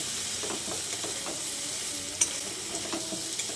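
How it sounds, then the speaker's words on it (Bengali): A pasta mixture is stirred and tossed in a frying pan, giving a steady, close sizzle with soft scraping strokes and a sharp clink near the end. "পাস্তাগুলো দিয়ে আবার সব কিছুকে একসঙ্গে ভালো করে নেড়ে চেড়ে মিশিয়ে নিচ্ছি"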